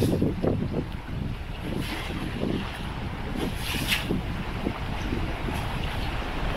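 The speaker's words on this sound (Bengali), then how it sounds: "ওই দিকে দেখো ঢেউ ভাঙছে" Monsoon-swollen Panchmukhi river waves break and churn under strong, gusting wind, a loud, continuous roar close by with buffeting surges and no speech.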